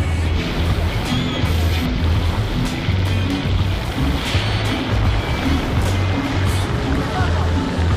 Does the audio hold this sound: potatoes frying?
no